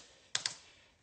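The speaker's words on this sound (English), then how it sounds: "What happens when I touch the keyboard?" Two quick, light clicks sound close together on a laptop keyboard, crisp and near in an otherwise quiet room.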